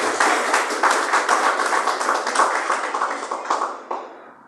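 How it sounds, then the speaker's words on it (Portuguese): A church congregation claps together during a Portuguese-language service, steady dense applause lasting about four seconds before tapering off. "Palmas para Jesus, se coloquem de pé."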